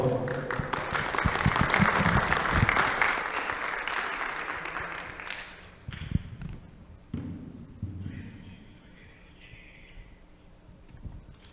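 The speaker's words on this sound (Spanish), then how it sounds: "Un aplauso para Julián" An audience at the Colombian Internet Governance Forum applauds a speaker with a full, sustained round of clapping that fades after about six seconds, then only scattered claps and faint room sounds remain.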